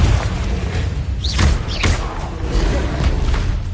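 Confringo spell blasts in a Harry Potter video game, booming thuds amid chaotic combat noise, with a couple of sharp whooshing bursts in quick succession.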